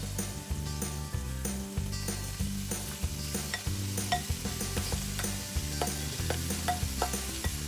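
Onions and salad shrimp fry in a pan, a steady sizzle broken by repeated scraping and stirring strokes, close and fairly loud with no talking.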